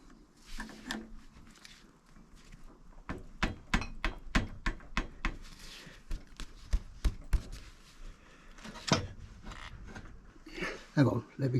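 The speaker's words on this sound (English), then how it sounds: "Try it with a claw hammer." A claw hammer striking metal while removing the swing arm from a Kawasaki GTR 1000 motorcycle, a rapid run of about a dozen sharp blows in the middle, with scattered knocks and clatter before and after.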